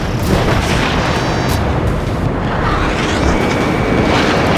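Loud, continuous roar of jet-fighter combat in Ace Combat 7, with a missile attack amid booming engine noise and explosive rumble throughout, dense and unbroken.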